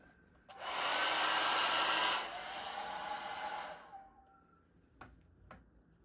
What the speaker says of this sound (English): it has a heat source, which is an ordinary hair dryer